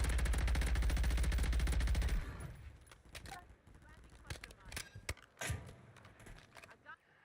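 Call of Duty Warzone gunfire: a loud sustained automatic burst for two seconds, then scattered closer and distant shots and clatter, with voices talking over the action.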